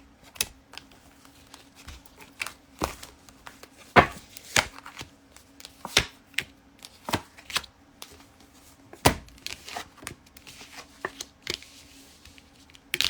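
A tarot card deck being shuffled and cut, heard as a series of sharp, dry snaps and riffling clicks at uneven intervals, fairly quiet and close with no talk.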